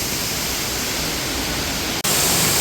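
A waterfall near the cave stairs in Pinnacles National Park makes a loud, steady broadband rush of falling water, close and continuous, with a brief dropout near the end.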